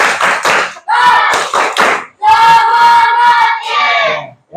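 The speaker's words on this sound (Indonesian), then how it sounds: "sama-sama kita semangat dulu dengan tepuk semangat" A classroom group performs the rhythmic 'tepuk semangat' clapping chant, bursts of sharp hand claps alternating with loud sung or chanted voices in a quick patterned rhythm, close and energetic.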